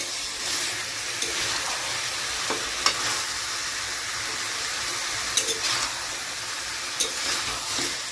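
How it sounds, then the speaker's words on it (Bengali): Chicken pieces and chopped onions are stir-fried together for a Bihari chicken curry, giving a loud, steady sizzle broken by a few scraping clicks of the spatula against the pan. "এবার এই পেঁয়াজের সাথে মাংসটাকে খুব ভালো করে কষিয়ে নেব।"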